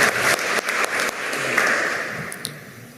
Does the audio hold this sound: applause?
yes